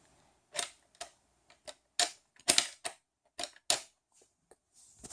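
A button on a V5 push-button safe is pressed and the mechanism pops out, producing a series of sharp, close clicks and snaps at an irregular pace, with quiet gaps between them.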